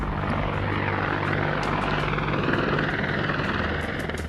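An Indian Air Force military helicopter in flight gives a loud, continuous rotor and engine roar that holds steady throughout without any break.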